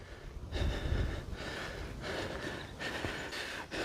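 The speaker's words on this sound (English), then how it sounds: "I'm already panting and I haven't even started yet properly." Heavy, rhythmic panting breaths from someone on a countryside walk at Brompton Ralph in Somerset, several close, loud inhales and exhales in sequence.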